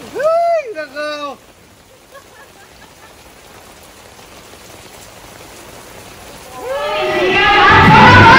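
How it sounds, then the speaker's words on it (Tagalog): Heavy rain patters steadily outdoors, growing into a loud, dense downpour toward the end, with excited voices talking over it at the start and again as the rain intensifies. "Inabot na ho kami ng ulan!"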